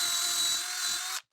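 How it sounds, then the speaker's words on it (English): Power drill pre-drilling into wood while building a workbench, a brief high whine held steadily for about a second before cutting off abruptly, close and loud. "I am going to be pre-drilling and countersinking ever so slightly,"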